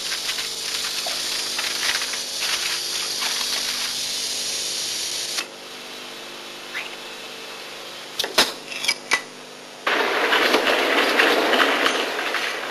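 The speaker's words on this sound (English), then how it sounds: "Even the body of this London Transport tube train is made from aluminium." A London Transport tube train with an aluminium body runs past with a steady rumbling roar that drops quieter midway, then picks up with sharp clicks and a louder rushing sweep near the end.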